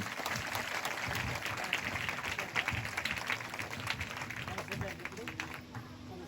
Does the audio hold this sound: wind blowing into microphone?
no